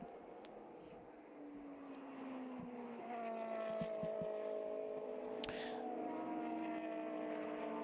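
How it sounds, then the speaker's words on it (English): GT race cars, including a Lamborghini, racing at Silverstone: engines howl past in rising and falling pitch sweeps with gear changes, growing louder as cars approach, one sharp close pass near the end. "It has been several laps of frustration for Michele Rugolo, but finally he finds a way around the Lamborghini"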